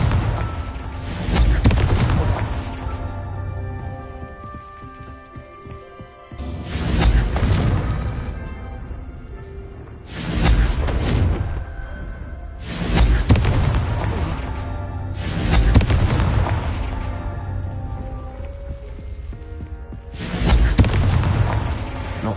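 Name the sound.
Confringo spell explosions in the video game Hogwarts Legacy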